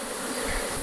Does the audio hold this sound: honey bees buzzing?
yes